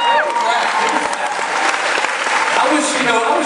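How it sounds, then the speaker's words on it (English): An audience claps together at a basement back-to-school bash, producing a dense, steady burst of applause that lasts the whole few seconds with no pauses. "give me a clap"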